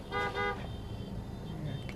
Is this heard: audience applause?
no